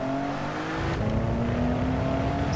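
A Mitsubishi GTO engine in Gran Turismo 7 on the Deep Forest circuit, a steady loud race-car drone with a tonal engine note that shifts pitch as it downshifts, heard up close.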